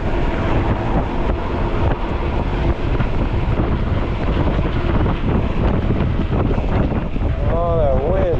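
Strong wind buffets the microphone of a rider on an electric 20-inch folding fat tire e-bike. It makes a constant, loud rushing roar throughout.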